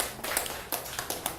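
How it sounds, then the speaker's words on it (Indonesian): Scattered hand clapping from a small crowd at an official inauguration ceremony in Lampung Barat, brief and uneven, with a few sharper claps standing out over a steady patter. "tepuk tangan untuk kita semua"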